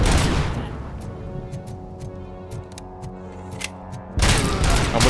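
Pistol fire in the video game Robocop Rogue City: a rapid series of sharp shots over a droning game soundtrack, with loud blasts at the beginning and end.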